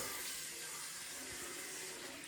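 Water runs steadily from a tap during dishwashing, a soft continuous hiss with faint clatter underneath, fairly quiet and with no voices.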